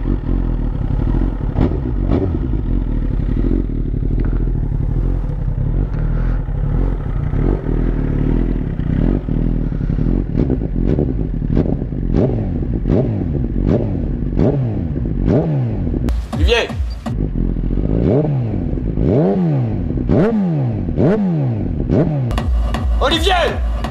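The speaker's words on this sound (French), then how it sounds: "je vais te faire écouter du coup le bruit de cette moto" A MotoGP race motorcycle idles roughly in an industrial zone, then its engine is blipped in repeated sharp revs that rise and fall quickly, growing louder and more frequent toward the end.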